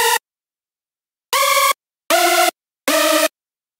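Bright, buzzy hypersaw synth lead layer pitched one octave up sounds in four separate bursts: one short clipped burst, then three even stabs after a pause, loud and dry against silence.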